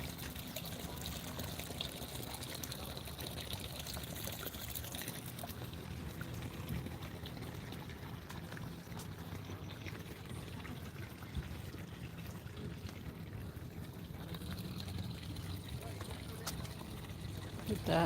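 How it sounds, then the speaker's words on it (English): A small fountain trickles into a garden pond at a plant nursery, a soft continuous splashing wash heard at a moderate distance while a person talks briefly. "The nice little fountain."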